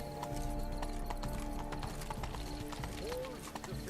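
Horse hooves clip-clop in a steady trotting rhythm in The Witcher 3: Wild Hunt Blood and Wine, with a brief whinny and continuous game music and ambience underneath.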